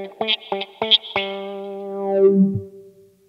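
A Way Huge Attack Vector phaser and envelope pedal with the range knob turned down, four quick guitar plucks and a ringing note that slides lower and darker, lacking the bright high end.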